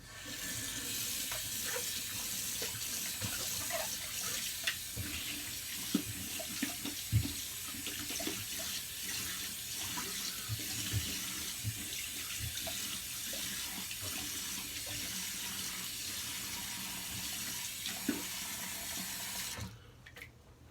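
A bathroom tap runs steadily and fairly quietly for about twenty seconds while alum is rinsed off a face after a shave, with small splashes and clicks over the hiss before it shuts off near the end.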